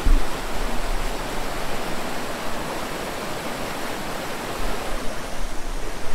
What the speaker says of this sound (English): we've been hiking along the side of this river the whole way, so we can hear it.